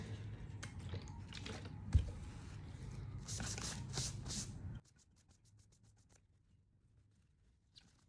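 A cloth rag dampened with Zest It solvent rubs and buffs an oil-based relief printing ink roller, making close scrubbing and wiping strokes for about five seconds before the room goes nearly silent.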